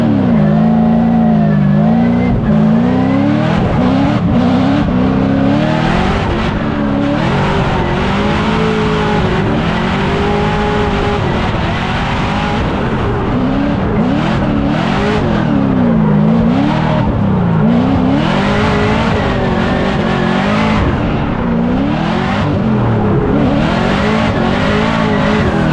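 A race car runs a full-throttle qualifying lap, its loud, close engine rising and falling in pitch through repeated upshifts and braking, with tires squealing in the corners.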